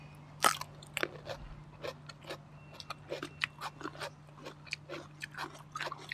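Close, crisp biting and chewing on a fried meatball, irregular crunchy bites repeating across the clip against a low steady hum, with no talking.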